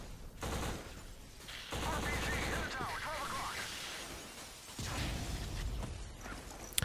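AK rifle fire in the Xbox first-person shooter Black comes in loud rapid bursts separated by short pauses, with someone talking over and between the shots.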